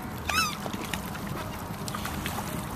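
A goose honks once, near and fairly clear, among swans being fed bread outdoors, over a steady wash of wind and background noise, with a few faint calls after.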